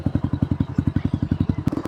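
A motorcycle engine idling close by, thumping in a fast even rhythm of regular pulses with light rattling clatter on top.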